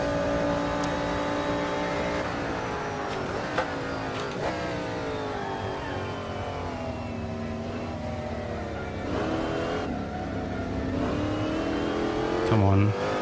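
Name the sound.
7-liter V8 race car engine in a racing video game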